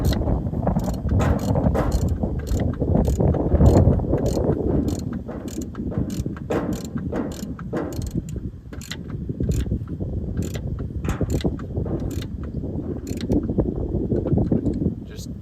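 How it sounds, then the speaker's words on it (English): Ratchet wrench snugging an air filter on a John Deere 4450 tractor, a run of sharp repeated clicks over a heavy low rumble, close and fairly loud, with no talk over it. "Just get it tight with the wrench, or a ratchet, I mean."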